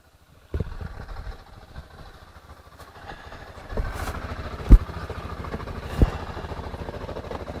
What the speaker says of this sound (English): It sounds like it's a normal idle now